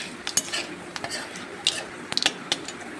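Jackfruit curry with sugar is stirred in a pan, producing a string of sharp scraping and clinking knocks of a utensil against metal. The strokes come at irregular intervals, close and moderately loud, with no talking.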